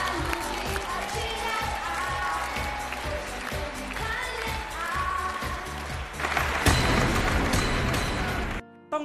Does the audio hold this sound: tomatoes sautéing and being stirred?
no